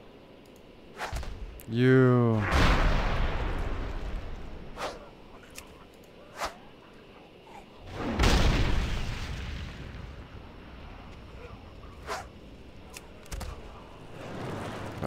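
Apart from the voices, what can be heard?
bomb explosion in World of Warcraft video game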